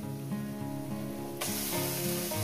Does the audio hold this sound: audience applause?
no